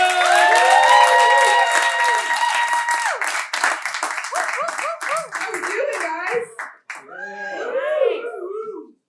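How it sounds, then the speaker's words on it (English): Audience at a live late-night comedy show claps and cheers for a comedian taking the stage: a loud burst of applause that thins out into whoops and excited voices. "Guys, get for applause going for my girl, Elena Fisher!"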